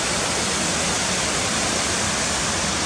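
Cotter Force waterfall, surrounded by high cliffs, pours with a steady, dense rushing roar that stays constant and close.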